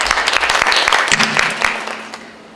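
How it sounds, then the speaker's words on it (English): Audience applause at a live stage talk event after a dancer's performance, a dense burst of clapping that starts loud and gradually fades over a few seconds, with no clear speech. "let's give him another round of applause"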